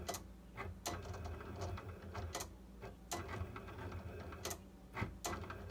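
A Cricut cutting machine running on a desk while crafting a bow holder, with a low steady mechanical whir broken by sharp periodic clacks of the carriage moving, fairly quiet and close.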